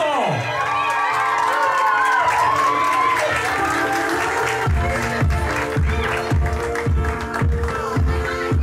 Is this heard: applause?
yes